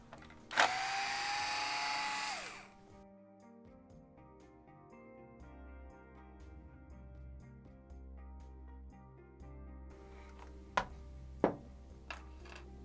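A cordless power drill or driver whirs briefly as it backs out a 2 mm screw from the diffuser of an ARRMA Felony RC car, followed by quieter background music and a few sharp clicks of small parts near the end.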